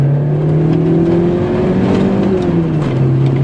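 Vauxhall Nova GTE engine pulling hard under acceleration, a loud steady drone from inside the car with the pitch rising gradually and then easing after a shift.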